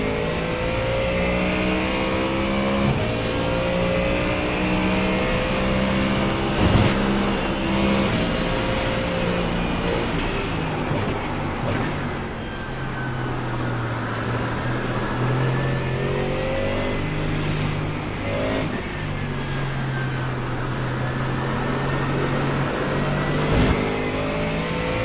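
Ford Mustang GT3 race car in a sim racing game at Sebring, its engine droning and revving steadily through gear changes, rising and falling in pitch continuously with a few sharp shifts and bumps.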